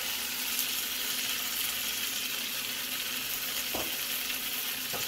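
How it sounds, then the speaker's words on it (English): An egg frying in a pan for pad thai with chicken, a steady, fairly soft sizzle that stays even throughout, with a couple of faint utensil taps near the end. "I'm going to cook the egg separately at first."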